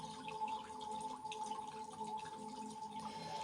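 Water dripping softly and continuously in a quiet space, faint and close, with a gentle liquid trickle.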